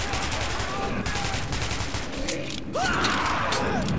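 Rapid bursts of automatic gunfire in the Metro 2033 Redux video game, a dense rattling fusillade that continues loudly, with a heavier volley near the end.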